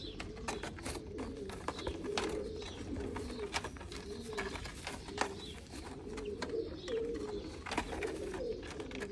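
Pigeons cooing repeatedly in a loft in soft, throaty bursts, several birds overlapping at close range with flutters and rustles in between.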